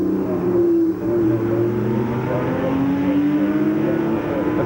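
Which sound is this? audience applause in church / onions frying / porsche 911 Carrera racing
porsche 911 Carrera racing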